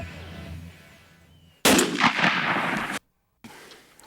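A single loud shotgun blast goes off outdoors during a turkey hunt, a sharp crack with a brief echoing tail after faint ambient quiet, followed by near silence.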